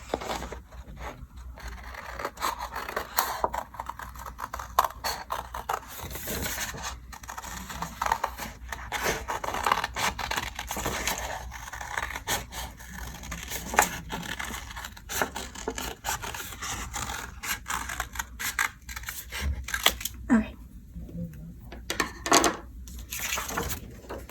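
Steady snipping and rustling of scissors cutting through paper, close by, continuing throughout with brief pauses and small scraping sounds.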